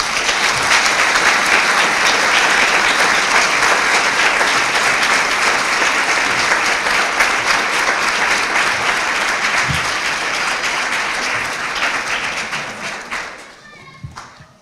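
A community forum audience gives a long, steady round of applause, dense and loud for many seconds, with a few cheers mixed in before it thins and fades out at the close.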